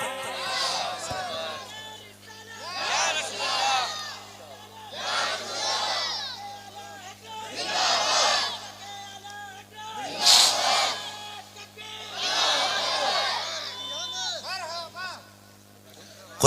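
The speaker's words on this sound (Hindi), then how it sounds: "नारे तकबीर।" A large crowd at a religious gathering chants Allahu Akbar in answer to a Naara-e-Takbeer call, with repeated loud rising waves of massed voices in a regular rhythm, reverberant and sustained over an electrical hum.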